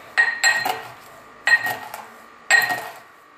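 Garlic cloves are pressed and crushed with a knife on a board in a kitchen, giving three close, sharp clicking knocks spaced about a second apart with quiet gaps between them.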